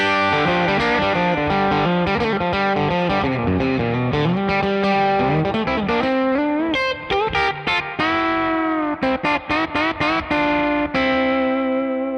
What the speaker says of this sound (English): You're taxing the amplifier to get the distortion.